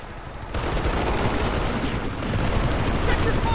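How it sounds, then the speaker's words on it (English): Rapid gunfire from the online shooter PlanetSide 2, a dense, continuous burst of shots and battle noise that runs throughout, loud and close, building slightly toward the end. "I'm just shooting at anything that moves."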